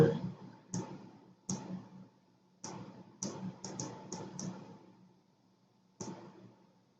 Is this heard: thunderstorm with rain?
no